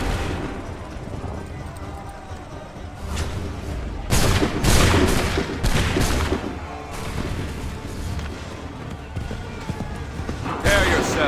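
In Assassin's Creed 3, soldiers fire musket volleys: after a quieter stretch of clatter, a rapid cluster of sharp, booming shots erupts, followed by a further blast near the end, with voices heard amid the din.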